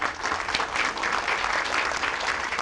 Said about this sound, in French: Un applaudissement pour Philippe.